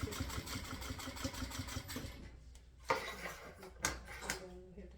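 Sewing machine stitching a straight seam on fabric for a Bentô bag at stitch length 3.5, a dense mechanical whirr for about two seconds that then stops, followed by a few clicks and handling knocks.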